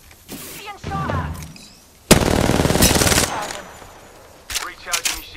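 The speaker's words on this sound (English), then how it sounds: "Being shot at." Rapid automatic gunfire in Apex Legends, a dense burst of shots for about a second in the middle, with scattered shots and game effects before and after.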